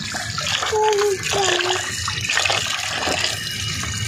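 Water splashes and runs while scaled, cut fish are washed, a close, uneven sloshing and trickling with brief squeaky tones early on.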